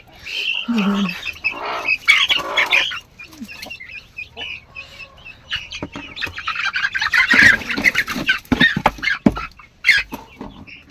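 Backyard chickens squawk and cluck loudly in bursts, with sharp cries clustered near the start and a denser run of agitated calls toward the end, separated by a brief lull.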